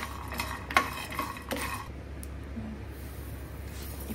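Soya chunks (meal maker) dry roasting in a hot pan, giving a few sharp, close taps and pops in the first two seconds over a low steady hiss, then quieter background.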